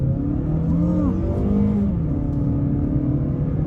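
A 2022 Mazda CX-30 Premium accelerates up to highway speed, its engine holding a steady, close drone over continuous road noise.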